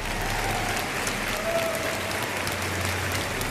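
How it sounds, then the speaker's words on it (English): A magic show audience applauds two officers who assisted on stage, a continuous even patter of clapping filling the room. "let's give both of these officers a round of applause"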